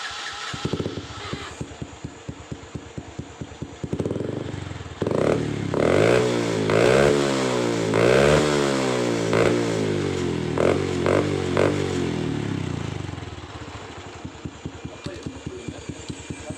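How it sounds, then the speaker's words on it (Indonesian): A Honda Revo motorcycle with a hollowed-out, modified exhaust idles with a rapid popping putter. It then revs up several times in rising and falling bursts before settling back to a ticking idle, loud and close. "knalpotnya udah selesai. Sekarang tinggal kita tes suaranya."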